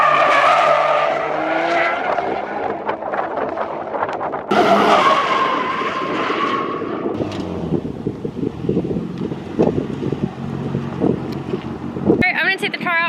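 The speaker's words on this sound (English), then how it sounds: "let's drift the Evo and see what happens" A Mitsubishi Evo drifts with tires skidding and squealing loudly over a roaring engine, sustained and close, with wind buffeting throughout and a sharp screech near the end.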